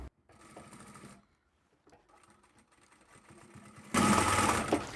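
A sewing machine back-stitches folded fabric for a decorative cushion, running in soft stop-start passes before breaking into a loud, fast continuous stitching burst near the end.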